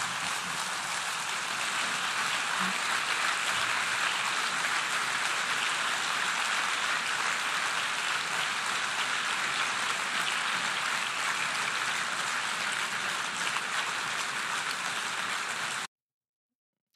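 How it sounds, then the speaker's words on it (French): Sustained applause from country delegations in the United Nations assembly hall, a dense, even wash of clapping that holds steady for about sixteen seconds and then cuts off abruptly. "quand tu vois ces délégations de pays applaudir le truc"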